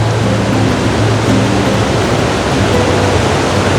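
Steady broadband rush of a mountain river pouring over rocks in Himachal, loud and constant without a break, and no voices present.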